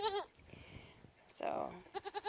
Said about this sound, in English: I hope you enjoyed the baby goats and Goblina.